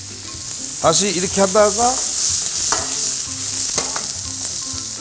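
Meat and vegetables sizzling loudly in a hot pan with sauce for yaki udon, with scraping stir strokes throughout and a person talking briefly over the frying.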